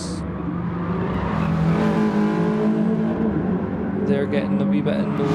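Race car engines from the F1R team's cars in Gran Turismo Sport at the Alsace circuit during an online championship race, droning and revving continuously under steady commentator talk.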